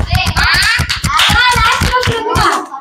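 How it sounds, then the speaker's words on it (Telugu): A small group claps together at a friendship day celebration, a close, steady run of sharp claps for about three seconds, with children's voices chattering faintly underneath. "చప్పట్లు కొట్టండి."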